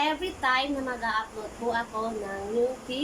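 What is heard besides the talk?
No everyday noises stand out.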